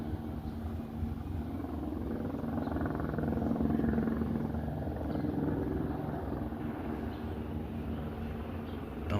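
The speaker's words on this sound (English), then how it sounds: "See the news media helicopters." News media helicopters circle over a Long Beach police pursuit, a faint, distant continuous rotor drone with a low throbbing hum holding steady throughout.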